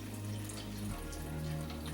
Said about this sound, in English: It is easier if you pour it upside down to start with so that air can get in there